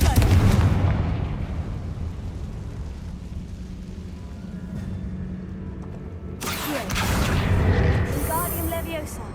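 Confringo fire spells in Hogwarts Legacy burst with a heavy booming explosion at the start, then a rumbling fade, followed by a second crackling blast with sharp debris and fiery hissing near the end.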